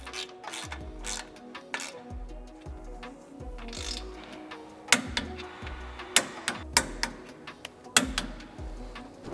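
Ratcheting on M10 bolts fastening a winch mount to a Tesla Cybertruck: rapid repeated ticking clicks in short bursts, close and fairly quiet, with a few sharper metallic knocks and no talking.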